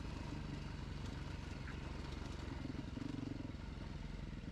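A Beta RR 430 dirt motorcycle rolls down a loose downhill, its engine thrumming steadily at low revs with faint clatter throughout.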